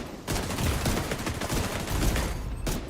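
Dense, sustained bursts of gunfire in The Division 2, rapid overlapping shots filling the whole stretch with a brief lull near the end, loud and close with no talk over it.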